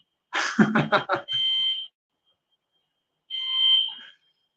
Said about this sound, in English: Can you still hear the alarm, people?